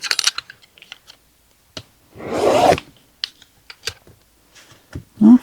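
Fabric such as flannel being cut for a sea turtle appliqué, heard as short scissor snips and scraping rustles with a longer rough burst of cutting partway through, close up and fairly quiet, no talking.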